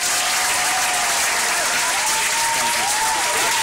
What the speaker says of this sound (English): Robert Grossman, let's give him a roaring round of applause.